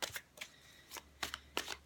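A deck of tarot cards, the Ciro Marchetti deck, is shuffled in several quick riffling bursts separated by short pauses, close and fairly quiet.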